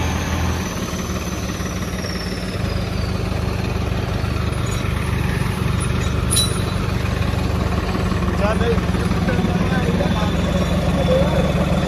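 Swaraj 963 tractor engine running steadily during a tractor tug of war, a continuous low heavy diesel rumble with vibration throughout, joined by faint background crowd noise and a brief squeak.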